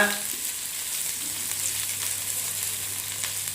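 Green chillies and curry leaves sizzle in hot oil in a pan for vermicelli upma, a steady, fairly loud hiss of frying that runs without a break from start to finish, with no voices.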